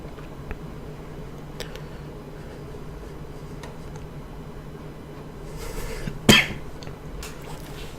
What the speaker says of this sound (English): Sorry if I have to turn and cough every once in a while.